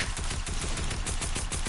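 Gunfire in a video game, a rapid run of sharp shots at steady volume with no talk, ending on the shot that lands a headshot.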